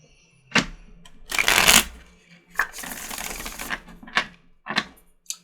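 A Shadowscapes tarot deck being shuffled by hand, several quick riffles and card flutters in separate bursts, close up with brief pauses between them.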